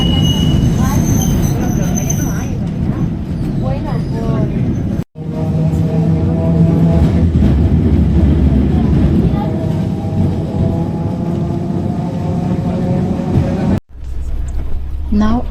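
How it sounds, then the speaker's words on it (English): A tram rolling through the streets of Porto, a loud continuous rumble with tonal wheel whine and squeal, heard close from on board, with two brief cuts in the sound. "you can actually hear the real sound of the tram as it rides through the city."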